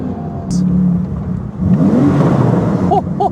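A Porsche 911 GT2 RS engine revs hard on a downshift into first, a rising mid-pitched roar that swells after a quieter stretch, with exhaust pops near the end and someone talking over it.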